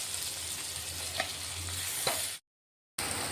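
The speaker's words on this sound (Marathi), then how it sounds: "टोमॅटो टाकतोय आपण आता, बारीक कट केलेला टोमॅटो टाकून घेऊ।" Finely chopped tomato dropped into hot oil with asafoetida for a potato curry, a loud steady frying hiss with light crackles, briefly cut to silence before the sizzle resumes.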